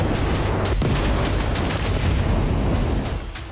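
Dense, continuous battlefield gunfire and booming blasts of Chechen fighters' weapons, loud and relentless throughout with sharp cracks punching through a heavy rumbling barrage.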